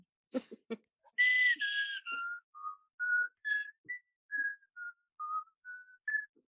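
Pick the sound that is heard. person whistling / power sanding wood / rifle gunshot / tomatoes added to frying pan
person whistling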